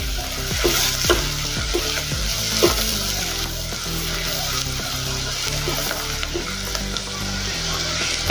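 Steady sizzling of finely chopped green chillies frying in a pan with occasional stirring scrapes and clinks, continuous and close, no talking.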